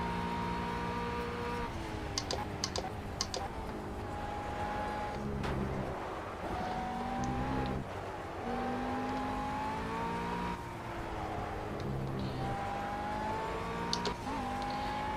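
A GT3 race car drives Eau Rouge in the Project CARS video game on Xbox One, its engine roaring steadily and rising in pitch through repeated gear shifts, loud and continuous with faint tire noise.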